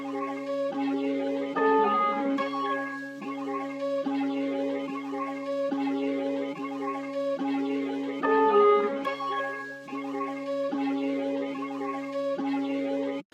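A dark trap starter loop, flipped from an earlier loop, repeats a bell-like melodic pattern over a steady low tone, with louder accented phrases recurring about every seven seconds and no voices.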